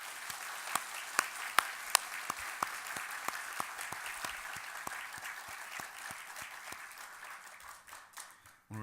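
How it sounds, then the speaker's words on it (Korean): A congregation in a church claps together in a steady, even rhythm, the beats sharp at first and then softening into a fainter patter, with no voices over it. "영광의 박수를 올려드리겠습니다."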